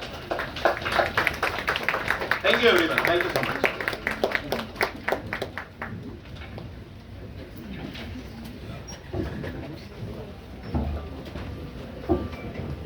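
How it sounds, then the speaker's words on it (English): Audience clapping at a medical seminar's question-and-answer session, a dense burst of applause that fades after about six seconds into quieter room noise, with a speaker thanking the crowd over it. "standing ovation and round of applause for both the speakers"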